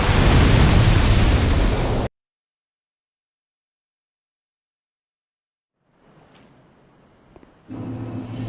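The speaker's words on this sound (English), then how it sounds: "Explosion." A loud, roaring explosion bursts from Dark Souls 2 and rumbles for about two seconds before cutting to silence, followed later by faint scattered game noises and a renewed low rumble.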